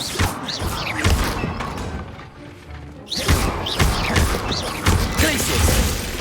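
Expelliarmus spell being cast in Hogwarts Legacy on PS5: a sharp magical burst with clanking, thudding impacts and crashes, a brief lull, then renewed clattering spell and combat sounds, loud and busy throughout.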